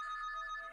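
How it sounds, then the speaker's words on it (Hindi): A single short burst of an office telephone bell ringing at night in a Delhi media house in 1995, clear and alone. "राजधानी दिल्ली के नामचीन मीडिया घरानों में फोन की घंटी बजती है।"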